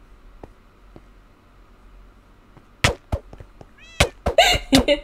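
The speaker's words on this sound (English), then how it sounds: "Oh, there's a cat." A cat in Minecraft meowing several times in quick succession near the end, loud and close, after quiet game ambience with soft clicks.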